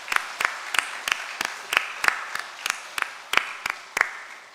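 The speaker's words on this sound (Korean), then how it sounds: "우리 오신 분들 따뜻한 박수로 역시 환영하겠습니다." A church congregation at Jeongneung Methodist Church's Sunday service claps in steady unison to welcome visitors. About fourteen crisp, evenly spaced claps ring in a quiet room with no talking.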